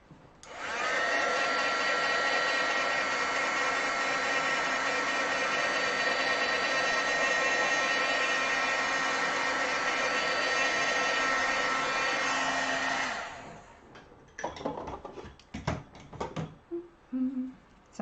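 A handheld heat tool blows with a loud, steady whirring hiss for about thirteen seconds while heat-setting a stamped ink layer in card making, then cuts off, leaving scattered handling clicks and rustles.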